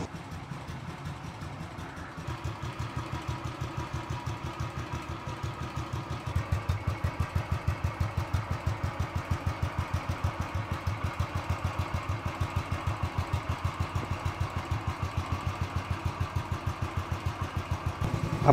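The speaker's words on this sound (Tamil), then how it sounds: "த்ராட்டல் கொடுக்காமல் பைக்கை ஐடிலிங்லேயே கொஞ்சம் நேரம் விடுங்க." A motorcycle engine idles steadily after a kick start, with no throttle applied, producing an even, close mechanical thumping that grows slightly louder twice before settling into a constant rhythm.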